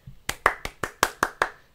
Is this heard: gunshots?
no